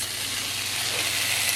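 Sausage sears in a pot as the base for chicken and sausage gumbo, giving a steady, close sizzle that holds evenly throughout with no talking.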